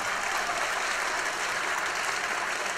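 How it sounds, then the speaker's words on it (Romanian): Audience applause for guests at a minorities festival in a large hall, a dense, steady wash of clapping from many hands, continuous and fairly loud throughout. "oaspeții noștri, aplaudați-vă!"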